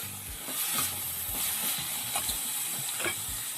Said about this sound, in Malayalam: സവാള ഇങ്ങനെ നന്നായിട്ടൊന്ന് വഴറ്റിയെടുക്കുക.